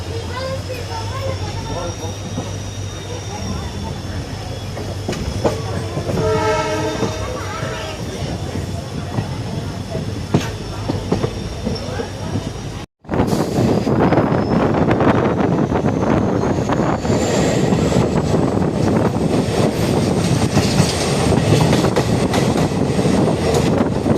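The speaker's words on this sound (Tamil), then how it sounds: "ட்ரெயின் வந்து 20 மினிட்ஸ் டிலேவில் வந்து மதுரையிலேருந்து டிபார்ச்சர் ஆகிடுச்சு" Steady rumble and rattling clatter of the Madurai–Guruvayur Express passenger train rolling along tracks near Madurai, with wind buffeting the microphone and a brief dropout midway.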